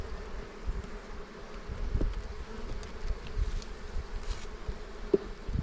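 Honey bees buzz steadily at close range as frames are lifted during an early spring hive inspection, a continuous swarm drone with a few louder passes near the ear.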